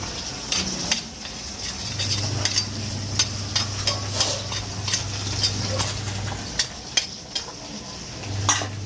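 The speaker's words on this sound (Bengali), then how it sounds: "মা এখানে রান্না করছে মাটির উনুনে রান্না হচ্ছে" Food cooks on a clay earthen stove. A soft background sizzle runs under a steady series of sharp clicks and scrapes from stirring, along with a low, steady hum.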